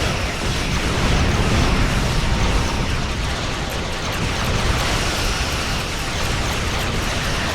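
Dark matter quantum torpedoes detonate in Star Trek Online space combat, a dense, unbroken wash of booming explosions and roaring noise that stays loud and steady throughout.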